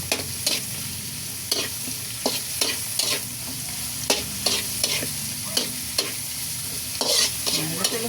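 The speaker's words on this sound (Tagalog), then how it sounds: "Isusunod na po natin ang sibuyas." Onions sautéing in a pan for chicken caldereta, with a steady sizzle and a brisk rhythm of spatula strokes scraping the pan close up, with no voices.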